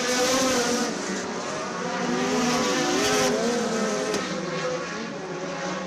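Race cars of an SCDRA field roar into a corner at Screven Motor Speedway during winter practice and qualifying, a steady loud engine drone with pitch sweeps as cars pass and rev, no talk over it.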